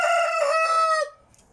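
A young rooster gives one loud, close crow lasting about a second, then cuts off to near silence.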